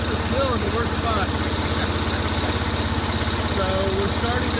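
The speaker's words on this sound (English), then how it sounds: "So while the engine warms up" A sawmill engine idles while warming up before slab milling a huge spruce, producing a steady low pulsing throb with a fine rhythmic beat. It holds at an even, fairly loud level the whole time.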